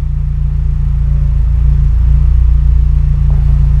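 A car engine running on a standalone ECU, tuned very rich, gives a steady loud low rumble that rises slightly as the throttle opens partway through, holding a continuous drone.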